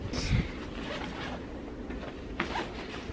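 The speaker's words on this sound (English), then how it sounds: "Another zipper." Backpack zipper pulled close by in a couple of quick rasping strokes, the first near the start and another near the end, with no talking over it.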